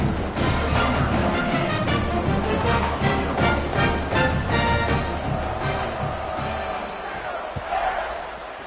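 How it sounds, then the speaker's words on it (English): Home crowd at a college football stadium cheering and roaring in a dense, loud wash that swells and then slowly fades, with no clear talk over it. "Come back to the home crowd after you've lost a couple games."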